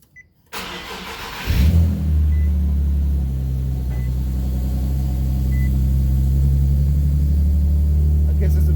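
A cold Nissan 370Z with an exhaust rattle cranks briefly after a moment of silence, catches, and settles into a loud, steady, rumbling idle close by.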